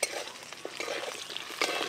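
Potatoes frying in oil left over from frying fish, a steady close sizzle with repeated stirring scrapes of a spatula in the pan.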